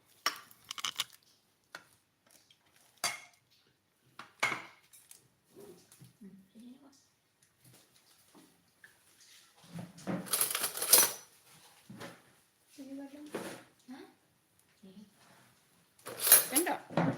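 Spoons, plates and cutlery clinking at a family holiday meal, scattered sharp clinks and clatters coming in bursts between soft voices talking nearby.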